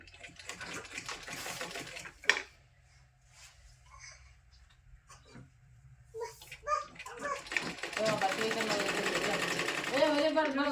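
A sewing machine stitches a side seam in folded cloth, its rapid rhythmic whirring running continuously through the latter half, after a quieter start with a voice and brief handling noises.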